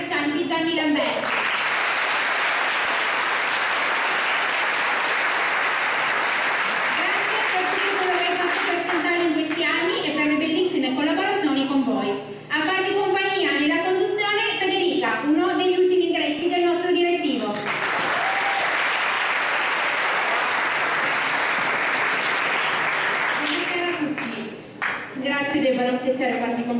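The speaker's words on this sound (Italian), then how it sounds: "chiedere un applauso a tutta la sala per il presidente uscente dell'Associazione Commercianti Gianni Lamberti" Applause from a full hall at a local festival, honoring the outgoing president of a shopkeepers' association, with loud steady clapping at the start and again later, and a stretch of voices talking over it in between.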